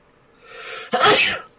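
A single loud sneeze with a short breathy build-up, close and alone, fading quickly.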